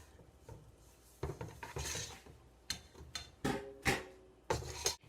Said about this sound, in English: And we'll stir it up.